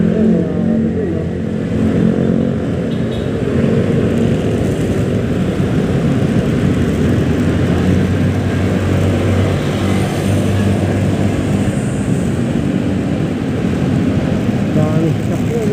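Dense Manila avenue traffic with many motorcycles and cars, a steady close rumble of engines and revving that fills the whole stretch without a break, with people talking over it.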